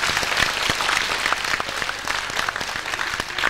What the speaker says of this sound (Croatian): Jedan aplauz za Mediku.